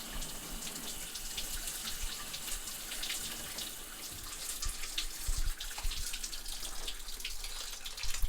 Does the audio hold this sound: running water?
yes